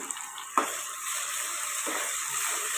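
Whole cinnamon and cloves frying in hot oil in a pan for bagara rice, a steady soft sizzle with a brief clink of a spoon stirring near the start, no talking.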